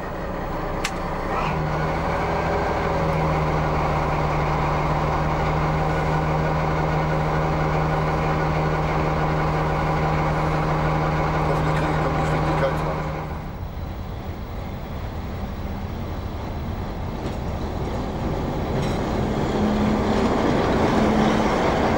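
A DB V100 diesel locomotive hauling a local freight train drones loudly with a steady engine note and a sustained whine that cuts off abruptly midway, leaving a lower rumble that swells again toward the end.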